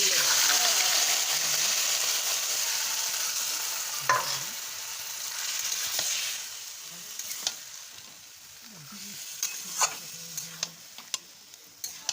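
Marinated meat frying in a wok, heard as a loud continuous sizzle that eases off, with scraping stirs and clinks of the spatula at intervals and a few faint voices in the background.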